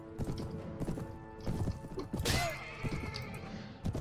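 Horse hooves clip-clop in the medieval battle game Mount & Blade: Warband, mixed with clanking mechanisms and a brief whinny, all moderately loud with no talk.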